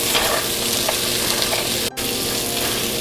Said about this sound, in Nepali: यस्तै गरी काटेको गोलभेडा र काजुको टुक्रा। अब यसलाई एकैछिन भुटौँ।